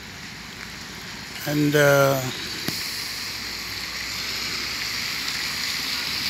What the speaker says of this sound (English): It's raining guys.